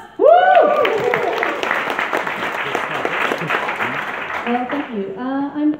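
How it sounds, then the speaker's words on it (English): An audience at a health technology pitch event claps loudly and steadily for several seconds, with a whoop over the applause before it fades and a voice begins. "give her a round of applause"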